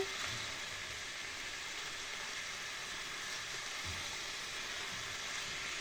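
Soft, steady sizzling of mushroom sauce frying in a pan, a quiet hiss that carries on evenly without any talking.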